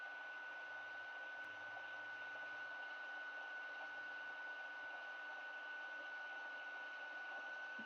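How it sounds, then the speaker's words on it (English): A heat gun blows hot air onto heat shrink tubing as a steady, faint, even whoosh with a constant tonal whine, running unbroken without speech. "So we got the heat shrink, fire up the heat gun."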